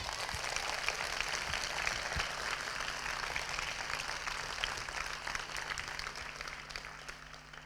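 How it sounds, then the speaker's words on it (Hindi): A church congregation at an annual convention applauds loudly for Jesus, a dense, steady wash of many hands clapping together that carries on without a break, with a low hum running underneath. "क्या कोई एक बार यीशु के लिए ताली बजा सकता है जोर से?"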